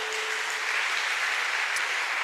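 A church congregation applauds in praise to Jesus, an even, sustained wash of many hands clapping at a moderate distance throughout.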